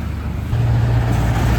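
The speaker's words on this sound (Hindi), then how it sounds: "ट्रैफिक का अच्छा खासा नॉइज आ रहा है" Road traffic noise heard through a headphone microphone during a call recording, a low, steady rumble that swells slightly midway, with no voices.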